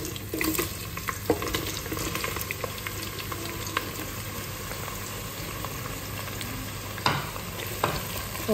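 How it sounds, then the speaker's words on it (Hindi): Onions frying in hot oil for mutton biryani masala, with a dense, continuous sizzle and occasional stirring scrapes and clinks, close and steady throughout. "प्याज को मैं लाइट ब्राउन होने तक इसको फ्राई करूँगी"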